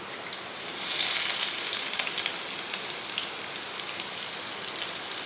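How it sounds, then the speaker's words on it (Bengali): Dried red chili, chopped onion and slit green chilies hit hot mustard oil in a pan, bursting into a loud, close, steady sizzle and crackle that peaks early and then holds on, with no talking. "সরষের তেল গরম হয়ে গেছে, ওতে দিয়ে দেবো একটা শুকনো লঙ্কা, দুটুকরো করে নিয়েছি"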